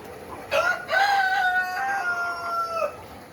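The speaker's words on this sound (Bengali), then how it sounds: "এগুলো হচ্ছে আমাদের সোনালি মুরগির প্যান্ট স্টক" A bird from a Sonali chicken parent flock gives a drawn-out crow of about two seconds over low farmyard background noise, with no talking.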